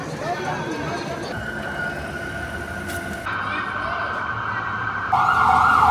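A police car siren sounds on a street in Santiago, Chile, as a patrol car passes. Steady high tones grow louder toward the end over traffic noise, with a voice talking.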